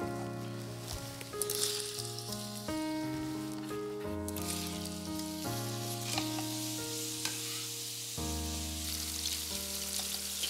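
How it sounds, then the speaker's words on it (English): Pears sizzle in melted butter in a pan, a steady crackling fry running beneath prominent background music with sustained chords throughout. "My butter is now melted. It's just starting to sizzle."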